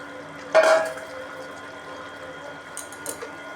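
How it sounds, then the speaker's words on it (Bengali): Fish dropped into a pan of cooked potatoes and vegetable stalks, a sharp splash and clatter followed by a low simmering bubble and a couple of faint utensil clinks. "এখন আমি মাছটা দিয়ে দিব"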